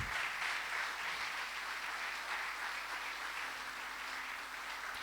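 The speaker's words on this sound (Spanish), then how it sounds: "¿Cuánto le dan un aplauso al Señor por esto?" Audience in a church applauding for the Lord during a sermon, a steady, even wash of clapping throughout, moderately distant and without speech on top.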